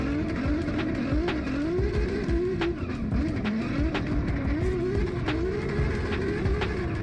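Drift car on a run, heard from the back seat: a loud engine that revs and drops repeatedly with sharp bangs on the shifts, over constant tire noise and skidding.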